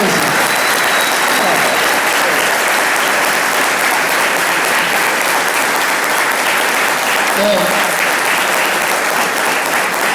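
Audience at the Crack Bang Boom 2018 comics convention tribute to José Luis García López applauding, a dense, loud, sustained wash of clapping that holds steady for about ten seconds.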